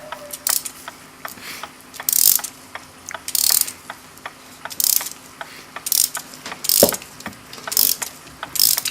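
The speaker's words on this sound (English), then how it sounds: "We'll tighten up the springs, wind them right up." Gilbert kitchen clock mainsprings being wound by hand, a crisp ratchet clicking in short regular bursts, each run of clicks followed by a brief pause before the next turn of the key.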